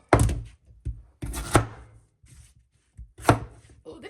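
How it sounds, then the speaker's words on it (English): A dull knife chops potatoes on a cutting board in a kitchen, a series of sharp, close thunks in uneven bursts with short quiet gaps between them. "Let me shut up for the rest of the chopping so y'all can enjoy this little ASMR moment"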